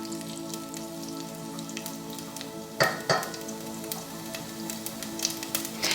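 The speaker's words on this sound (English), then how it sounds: "you can already hear the lovely sounds. So we're waiting for the mustard to pop." Mustard and cumin seeds sizzle in hot oil with a steady crackling hiss, scattered sharp pops and a couple of louder spits, close and fairly quiet.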